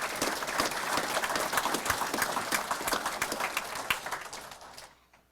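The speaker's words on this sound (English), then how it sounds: "So that also deserves a round of applause." An audience applauds at a Wilmington police academy graduation ceremony, dense, loud clapping from a large crowd that holds steady and then tapers off quickly into quiet.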